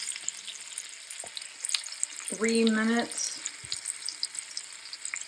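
Ribeye steaks just out of the oven sizzle in a hot skillet, a steady broadband hiss running through the clip under a voice, with a louder burst of talk partway through.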